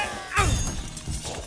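A loud cartoon shatter crashes out in an animated scene, a sharp burst of breaking with a low thump, then scattered fragments tinkling and settling while voices speak around it.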